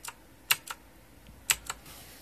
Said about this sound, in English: So I'm going to type in like Facebook.